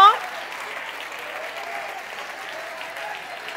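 Church congregation applauding steadily at a moderate level for a few seconds, with a brief louder burst at the very start.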